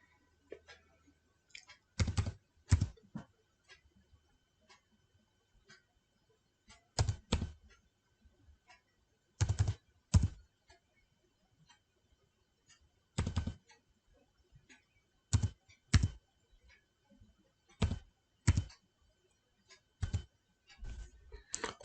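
A computer keyboard is typed on in short separate bursts of clacking keystrokes with quiet pauses between them, close and crisp while a roll number and date of birth are entered.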